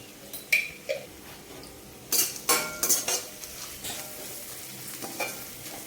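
A spoon stirs onions with salt and turmeric in a pan for mushroom biryani, giving scattered scraping clinks against the metal over a soft sizzle, fairly close with no voices.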